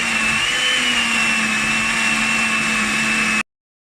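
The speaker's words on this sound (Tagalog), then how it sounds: "Tapos blender lang ng mga 2 minutes" A kitchen blender runs continuously on banana bread batter with egg, a loud, steady whir with a high whine that holds for over three seconds before stopping abruptly.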